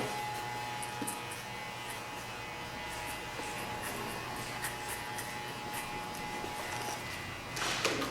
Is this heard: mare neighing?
no